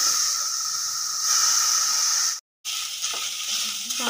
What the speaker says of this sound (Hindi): हाई फ्लेम पे करके गैस को इसके बराबर से भूनना है, जिससे इसका रंग हल्का ब्राउन में हो जाए